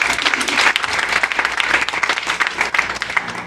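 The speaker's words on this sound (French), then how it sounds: "if I'm talking to someone, clap for Jesus" An audience at a church service claps and cheers, a loud, dense, continuous wash of applause with no let-up across the whole stretch.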